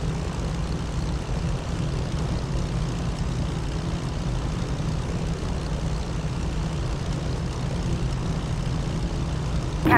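A Piper Seneca twin-engine propeller aircraft taxis toward the runway at Kahului airport in the Flight Sim World game, its engines giving a steady, loud, unbroken drone throughout.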